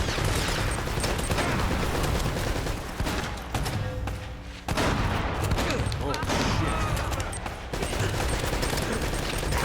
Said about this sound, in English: Who put a turret there, honestly?